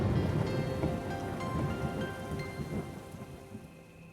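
Steady heavy rain pours in a Bengali cartoon scene, with low rolling thunder rumbling underneath throughout and no voices.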